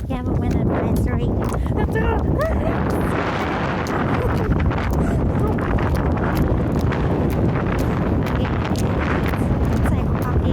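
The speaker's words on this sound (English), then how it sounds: "It's windy as fuck." Strong wind roars and buffets the microphone without a break while someone walks outdoors through a spring blizzard with falling snow, a loud, dense and steady rush that persists for the whole stretch.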